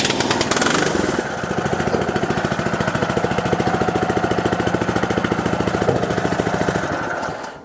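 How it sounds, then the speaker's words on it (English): A Muck Truck H Max power barrow's small engine starts with a loud burst, then chugs in a fast, steady rhythmic putter close by as the skip is pushed forward, fading slightly at the end. "I'm just going to start the engine up and push the skip forward for a moment, so a bit of noise"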